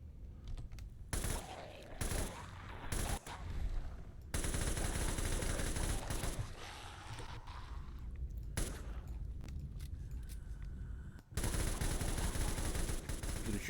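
Sustained bursts of automatic gunfire from the video game Fallout 4, loud and dense, broken by a few brief pauses before the rapid shooting resumes.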